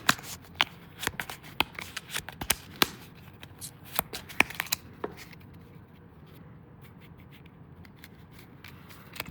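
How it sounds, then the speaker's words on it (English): Cards for the Revenant board game are shuffled by hand in quick, crisp riffles and slaps, the bursts close and sharp at first and then thinning into softer handling. "Shuffle."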